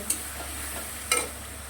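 Ginger garlic paste sizzles softly in a pan on a steady frying hiss, broken by two sharp scraping stirs about a second apart. It is close and quiet, with no talk.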